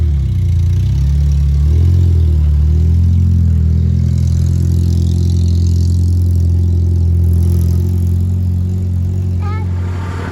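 A #13 Acura RSX race car, damaged in a crash, idles steadily nearby with a deep, even engine rumble throughout, and a faint brief chirp near the end.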